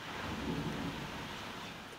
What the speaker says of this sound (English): Right now it's like raining outside. I don't know if you hear it. Small thunderstorm.